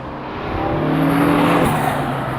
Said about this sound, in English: But this has all of your turbo noises,